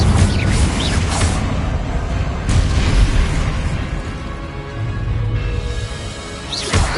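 A magical Confringo fire spell in Hogwarts Legacy erupts as a loud, sustained booming blast, with broad roaring rumble swelling and fading over several seconds and no talk over it.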